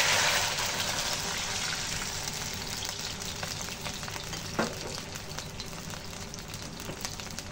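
Water poured into a pot of chicken soup with old chicken and fragrant aromatics hisses and sizzles loudly and continuously. A brief splash comes midway, and the sizzle fades slightly as it settles.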